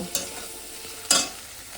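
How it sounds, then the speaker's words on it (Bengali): Spice masala with salt and turmeric for paneer manchurian stirred in a pan, two brief scraping strokes about a second apart over a quiet background, with no talking. "আর একটু হলুদ দিয়ে দেবো, দিয়ে মশলাটাকে আমি ভালো করে আবারও একটু নেড়ে চেড়ে নেব।"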